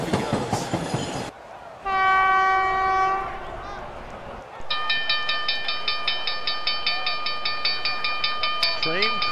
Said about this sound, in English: Train crossing